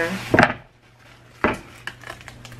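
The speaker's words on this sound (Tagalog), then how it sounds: "maghihiwa naman ngayon ako ng cabbage" A knife cuts through cabbage with two distinct sharp chops on a board, about a second apart, followed by a few faint light taps, close and clear in a quiet kitchen.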